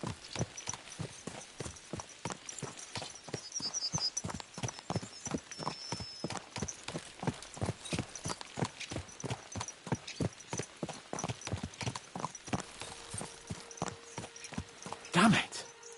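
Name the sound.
horses galloping, from video game Kingdom Come Deliverance II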